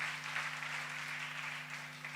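Steady clapping from a live theater crowd, even and somewhat distant, sits over a constant low mains hum.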